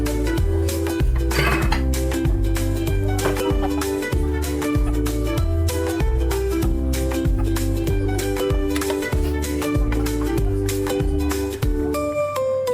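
A spoon clinks and scrapes against a pan as boiled macaroni is stirred into sauce, tapping in a steady repeated rhythm, close and continuous, with a melodic music track playing underneath.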